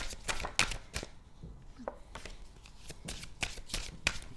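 Playing cards shuffled by hand in a series of quick riffling bursts and soft slaps, close and moderately loud, with no talking.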